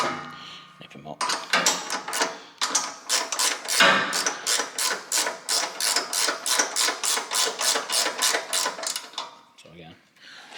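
A ratchet tightens 16 mm nuts on an ATV mower, giving a rapid run of evenly spaced clicks that is loud and close. The clicking pauses briefly, then resumes.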